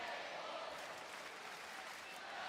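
A capacity wrestling arena crowd in Atlantic City keeps up a steady, distant roar of chanting and cheering for Gable, dense and unbroken throughout.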